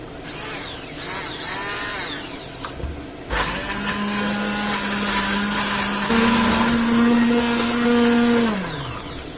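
An electric blender purees tomato sauce ingredients for a meatball dinner, its motor whining loudly and steadily up close, shifting pitch as the load changes, then a louder higher run that winds down near the end, with no talking.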